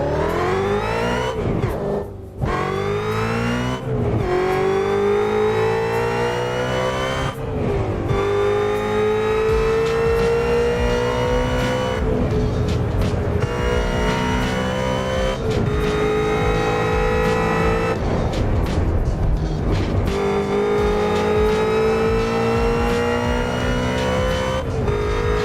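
A 770hp Ford Mustang GT350 in the Assetto Corsa racing game, its engine revving hard and shifting through gears with rising and falling pitch, loud and continuous, with occasional tire noise and no talking.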